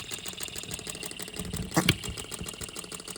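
An OKMO B02 model engine runs steadily with a fast, even mechanical clatter, fairly faint and close, with a brief louder knock or click near the middle.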